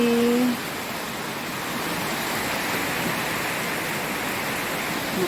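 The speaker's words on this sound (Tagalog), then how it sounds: "Maulan talaga ang gabi." Night rain falls in a steady, even hiss that goes on without a break, mid-level and unchanging, after a short voice at the start.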